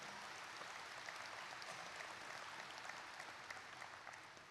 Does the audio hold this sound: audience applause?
yes